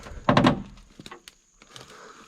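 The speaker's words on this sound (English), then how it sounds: "Let's open the door." The door of an old 1967 Ford F100 four-wheel-drive pickup is pulled open, a loud metallic clunk and rattle followed by a few lighter knocks and creaks, close and without speech.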